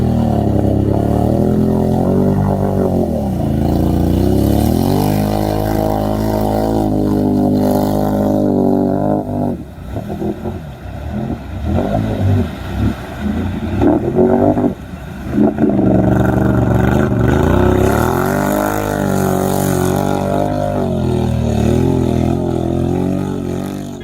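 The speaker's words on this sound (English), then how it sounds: "Some of these beasts are crazy powerful, engines roaring like monsters." Mega truck engines roar and rev through a mud pit, a loud sustained growl that rises and falls, with a rougher clattering stretch in the middle before the deep roar swells again.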